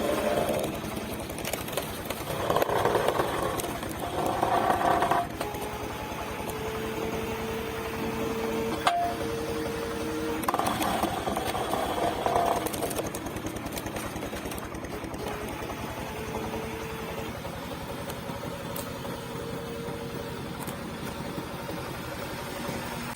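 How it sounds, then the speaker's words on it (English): A large Polish-made hydraulic log splitter built to split several pieces at once runs steadily with a continuous engine drone, rising in bursts of louder mechanical noise and creaking, with no talk. "The hydraulic wood splitter from Prisaboro is not just a tool."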